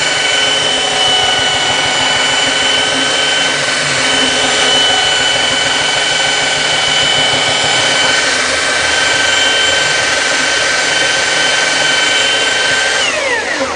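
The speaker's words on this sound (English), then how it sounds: "I'm going to go ahead and finish all this sanding and get this snipe out" A power sander runs continuously at close range removing planer snipe from a wooden plaque, a loud, steady whirring hum with a high-pitched whine that holds evenly the whole time, with no voices.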